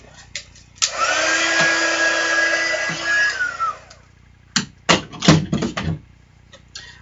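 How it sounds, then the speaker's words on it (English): A heat tool blows over stamped ink on a card, a steady whirring hum lasting about three seconds, followed by several sharp clicks and taps nearby. "So I'm going to use my heat tool real quick to make sure this is dry before we move on to that next step"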